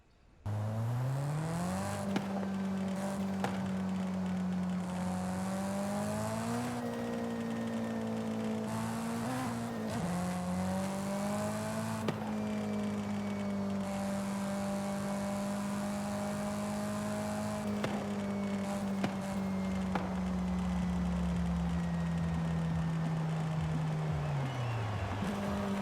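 A Mitsubishi Lancer Evo 6 with an 844 hp AWD drag build drives in Forza Horizon 5, its engine holding a loud, steady drone with shifts and rising pitch, sounding close and continuous with no talk.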